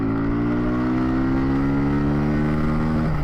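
A Kawasaki Z125 Pro motorcycle at full throttle going downhill gives a loud, steady engine drone with pitch rising slowly and heavy wind rush. No one speaks.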